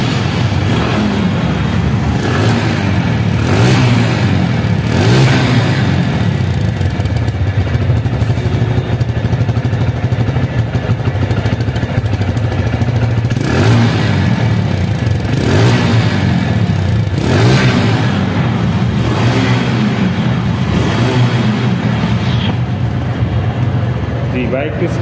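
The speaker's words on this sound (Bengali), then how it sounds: "এখন গাড়িটি সাউন্ড করে একটু শোনাবো" A TVS Metro Plus motorcycle in showroom condition with about 1,300 km on it runs close by, its engine revving up and dropping back in repeated surges over a steady idle rumble.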